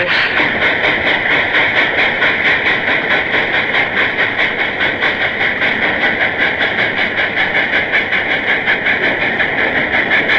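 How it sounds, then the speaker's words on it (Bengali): A train rumbles steadily past with a continuous rhythmic clatter of wheels on the track, loud and close throughout. "হ্যাঁ, ট্রেন, ওই ট্রেনটি নিশ্চয় করাচি যাবে।"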